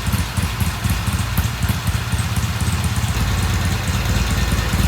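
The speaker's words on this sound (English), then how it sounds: "Alright, that's idled long enough." A 1971 Norton motorcycle engine idling close by with a steady, loud, low, lumpy beat that holds evenly throughout, no voices over it.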